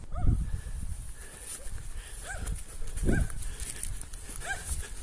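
Several short rising-and-falling cow calls, outdoors, moderately close, spaced a second or so apart over a windy, rustling background.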